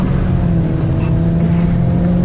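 A station wagon accelerates hard along a back road as the driver tries to spin the tires, a steady, loud, close engine drone holding for a couple of seconds.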